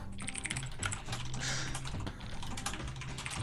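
Computer keyboard typing during an online party game of Quiplash: fast, steady clatter of keys close up, continuous under game music with a brief louder burst midway.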